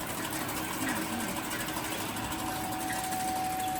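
A DZB-300B coffee stirring stick packing machine runs while packing bamboo sticks, giving a steady mechanical whir with fast, even rhythmic ticking, continuous and close.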